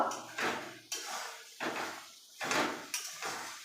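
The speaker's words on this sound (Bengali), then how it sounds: "এবার ঢাকনাটা আমি খুলে নিচ্ছি। এবার আবার নাড়াচাড়া করে নেব।" A metal lid comes off a pot of chicken curry cooking with apple on a gas stove, followed by a series of scraping, clanking stirs against the pot, close and fairly soft.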